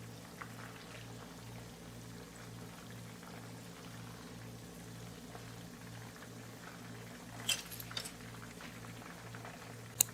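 Chicken fries in a pan over a medium-high flame, giving a steady close sizzle with a regular low pulsing hum and a few brief clinks, with no talking.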